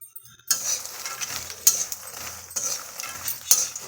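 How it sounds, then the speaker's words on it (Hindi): About 100 g of makhana (fox nuts) is roasted in a pan over a low-medium flame, with rhythmic spatula scrapes and rattles and a soft dry sizzle throughout, and no talk. "अब इसे लगातार चलाते हुए 3-4 मिनट के लिए मीडियम फ्लेम पर भूनेंगे, लो मीडियम फ्लेम पे, ताकि अच्छे से क्रिस्प हो जाए।"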